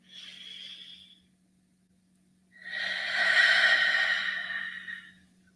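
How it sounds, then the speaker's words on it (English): A person takes a short breath and then a longer, deep inhale lasting several seconds, both close and breathy with a quiet pause between them. "A couple of deep breaths. Breathe in with me."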